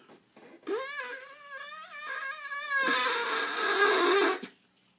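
A person blows out the contents of a craft egg through a small hole, starting with strained, whiny pitched vocal noises and then a sustained breathy hiss of blowing, close and fairly loud.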